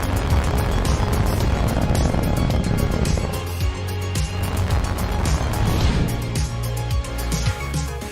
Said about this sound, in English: Falcon 9 has cleared the tower